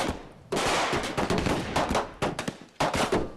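Dense bursts of automatic gunfire erupt during an animated film ambush, loud and close, with rapid rattling volleys cut by brief pauses.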